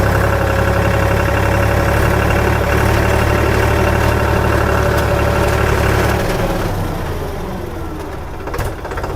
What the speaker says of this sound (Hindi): तो मैं गाड़ी थोड़ा तेज़ चलाता हूँ।